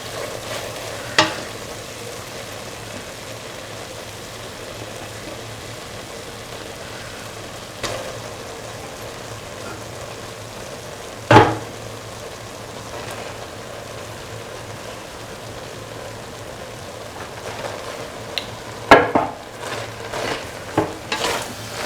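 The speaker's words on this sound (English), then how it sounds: "put in the rice little by little and mix" Rice is stirred into a mung bean and ivy gourd mixture in a pan over a soft, continuous sizzle, with occasional spoon scrapes and a cluster of clinks near the end.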